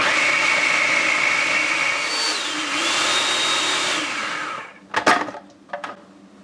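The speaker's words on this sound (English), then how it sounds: "process it around 30 seconds until it forms a creamy paste" A food processor blending kale pesto with olive oil and grated Parmesan: a loud, steady motor whir for several seconds that winds down, followed by a few sharp clunks and knocks.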